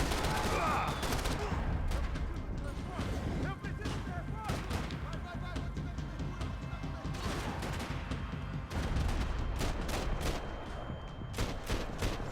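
Dense, continuous gunfire from Max Payne 3, overlapping shots and impacts crackling throughout amid a loud game mix, with talking mixed in.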